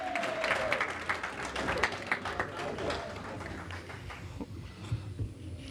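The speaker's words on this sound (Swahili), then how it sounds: "na wakati wanakia tumpigie makofi sana" A crowd at a Congolese youth party in Baltimore claps for the secretary, a burst of many hands applauding loudly that gradually thins and softens.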